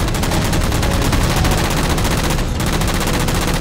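Sustained machine-gun fire in Halo 4 as jammers are shot down, a loud, unbroken rapid stream of shots with one brief gap.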